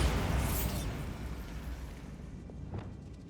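Bombarda blasting spell going off in Hogwarts Legacy, a loud broadband explosive burst right away that rumbles and slowly fades, with a second smaller pop near the end.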